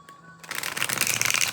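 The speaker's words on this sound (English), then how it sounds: "So let's give it a shuffle." A tarot card deck being riffle shuffled up close, a short burst of dense, rapid fluttering card clicks that builds and then stops, with no talking over it.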